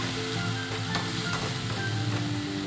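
Prawns frying in a pan for a raw jackfruit curry, a steady close sizzle with faint stirring clicks.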